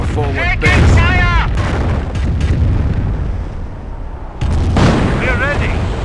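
Incoming artillery shells burst in a Company of Heroes battle, heavy booming explosions that rumble continuously and swell again after a brief lull, with shouted soldier voices at the start and end.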